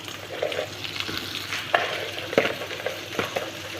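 Crabs cooking in a pot, giving a steady bubbling sizzle with scattered sharper clicks and pops, fairly close and even throughout, with no voices.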